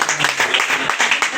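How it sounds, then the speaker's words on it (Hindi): Audience applause at an Alliance Club installation ceremony, a short burst of clapping in an indoor hall, fairly close and steady with a voice briefly over it. "तालियां बजती रहनी चाहिए।"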